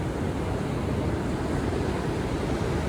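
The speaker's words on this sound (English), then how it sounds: "those waves are really rolling in" Ocean surf rolls onto the beach at Moruya Heads on the Sapphire Coast, a steady, full wash of breaking waves with some wind buffeting the microphone throughout.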